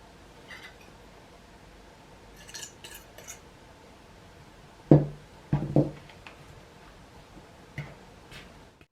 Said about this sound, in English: Beat the egg and stir that in too.